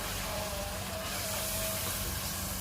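Masala roasting in a pan gives off a steady, broadband frying sizzle, close and continuous throughout with no voices.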